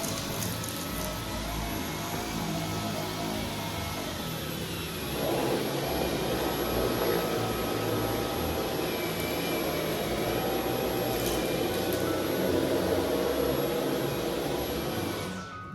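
A Dyson V11 cordless vacuum with its high torque head on medium mode runs across thick carpet strewn with pellets, giving a steady, loud, close whine and whoosh. The pitch lifts slightly partway through as the head digs into the pile.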